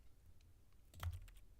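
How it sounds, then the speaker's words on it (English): Keyboard typing from The Stanley Parable: a quick cluster of sharp key clicks bunched together, close and fairly loud over a low background hum, with softer taps on either side. "It's keyboard sounds."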